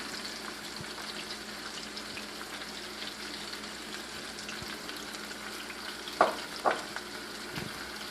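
Sliced mushrooms and a whole onion sautéing in a pan for chicken cacciatore: a low, even sizzle fills the background, with a couple of brief clinks and scrapes from stirring near the end.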